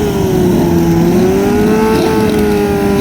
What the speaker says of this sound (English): Nice clean launch for the ZX6.